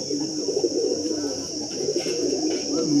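Low, rolling coos of pigeons at a pigeon sale come through continuously, mixed with a constant shrill whine in the background.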